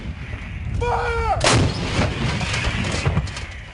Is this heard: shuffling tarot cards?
no